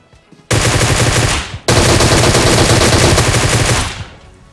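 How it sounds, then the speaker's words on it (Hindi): Rapid automatic gunfire in the game PUBG crackles in two long, loud, sustained bursts separated by a brief gap, close and dense, fading out at the end. "अब आपने गोलियों की आवाज तो सुनी होगी"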